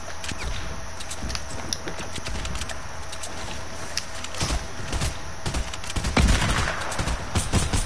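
Rapid bursts of gunfire ring out in a multiplayer shooter video game, with sharp repeated shots and clattering bursts over steady game background noise, moderately loud and uneven in rhythm.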